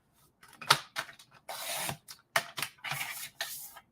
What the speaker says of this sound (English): Let me grab my trimmer. I'm going to cut this